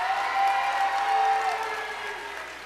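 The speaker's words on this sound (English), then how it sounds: "Give a round of applause for Andrew LeBoo." Audience applause fills a hall at the Mr. Carmel 2023 pageant, a steady, dense wash of clapping that holds for a few seconds and starts to thin toward the end, with a faint high tone running underneath.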